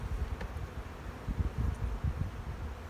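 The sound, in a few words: bees buzzing in a spring beehive box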